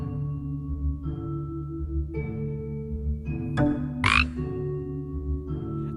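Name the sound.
frog croaking in The Storyteller video game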